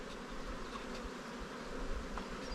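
Honey bees drone around hives in a bee yard, a soft continuous buzzing hum with no other sounds on top.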